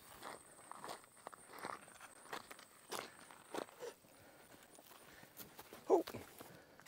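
Hooves plod slowly on soft ground, a series of separate muffled thuds at an unhurried walking pace, close by.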